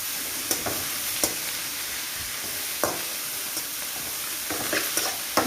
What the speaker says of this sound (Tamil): இப்போ இந்த கீரையும் போட்டு நம்ம நல்லா லேசாக வதக்கிடலாம்